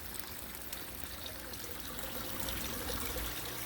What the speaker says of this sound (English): the water is still flowing out of that in a 360-degree pattern